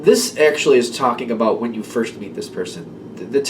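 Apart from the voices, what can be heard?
None of the usual background noises is heard.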